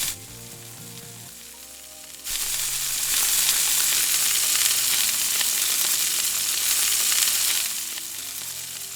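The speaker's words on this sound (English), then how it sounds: "Finally, deep fry them in hot oil until golden brown." Rava-carrot vadas deep frying in hot oil, a steady loud sizzle that swells sharply after a couple of seconds as more batter hits the oil, then eases slightly near the end.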